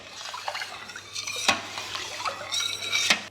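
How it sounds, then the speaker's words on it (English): A utensil scrapes and clinks against a metal pot while water sloshes during yogurt-making, with a few sharper knocks spread across the stirring. "So stir it in really, really well."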